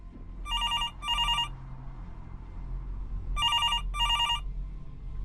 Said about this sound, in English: The phone was ringing in its cradle.